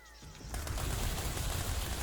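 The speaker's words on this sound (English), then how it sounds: "SMG, yeah, freezes enemies." Dense SMG fire from the run-and-gun video game Fury Unleashed, a continuous rapid burst of shots that starts abruptly and keeps up steadily and loud, with no voice over it.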